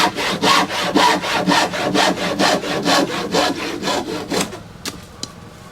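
A hand saw cuts through a wooden well board for a workbench, with steady rhythmic back-and-forth strokes, about a dozen close and loud, before stopping abruptly with a couple of faint knocks.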